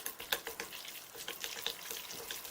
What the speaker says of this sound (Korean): 여분의 젓가락 있으시면 젓가락으로 일단 밑간할 수 있게 좀 섞어주세요